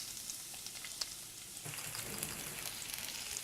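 Chopped medium onion and four to five cloves of garlic frying in hot soybean oil, a steady close sizzle that jumps louder and denser midway as they hit the pan, with no talking.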